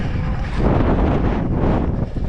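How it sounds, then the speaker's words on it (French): Steady wind buffets the microphone with a loud, continuous roar on an electric mountain bike ride near Txaruta, no voices present. "Là il y a du vent"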